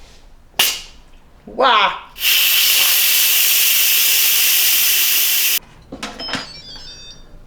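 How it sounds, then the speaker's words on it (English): An Instant Pot pressure cooker vents steam in a loud, steady hiss lasting several seconds, preceded by sharp clicks and followed by brief clatter and a voice exclaiming. "I'm just going to release the steam"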